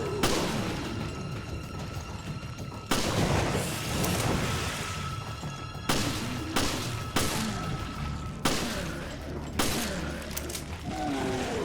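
Gunfire aimed at a chunk ooze creature in Resident Evil Revelations raid mode, a few heavy booming shots scattered across a dense, rumbling game soundscape of mechanisms and ambient noise.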